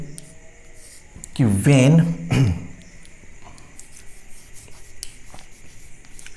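Pen or marker scratching steadily across paper while notes are written by hand in a classroom lesson, a faint continuous scribble with small strokes, following a brief spoken phrase.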